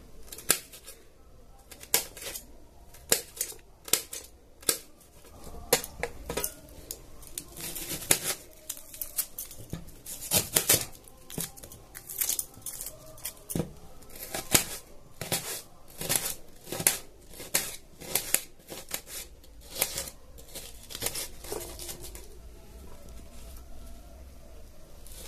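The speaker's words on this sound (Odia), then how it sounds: "ପ୍ରଥମେ ମୁଁ କାଟିଦିଏ, ତାପରେ କଞ୍ଚା ଲଙ୍କା ଟିକେ କାଟିଦେବା" Knife chopping fresh green chilies on a board in a home kitchen, a long run of sharp, irregular cuts and taps, sometimes in quick bursts, close and fairly quiet with no talking.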